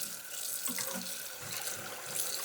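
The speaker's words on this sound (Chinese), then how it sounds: "现在关火把它洗一下，加入清水把它头洗干净" Running tap water steadily rinsing pork belly in a kitchen sink after blanching, a continuous close splashing hiss with small shifts as the meat is moved under the stream.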